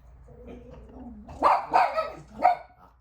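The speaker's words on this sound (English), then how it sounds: "my dogs are barking" Dogs bark in a short cluster of three or four loud, close barks after a quieter stretch of low murmuring, with no talk over them.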